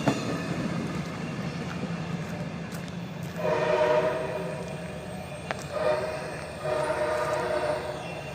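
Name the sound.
passing train sounding its horn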